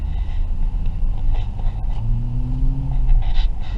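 Road traffic in Manila, with vehicles including tipper trucks at a construction area: a loud, continuous rumble of engines, with one vehicle's engine tone rising as it passes nearby.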